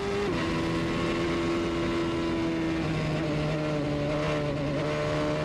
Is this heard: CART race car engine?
yes